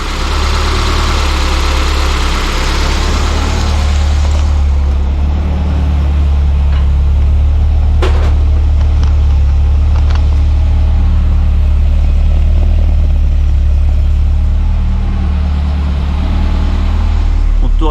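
Peugeot 205 GTI engine running after its first start in 15 to 20 years, a loud steady idle with deep low rumble and a few brief clicks, faint voices under it.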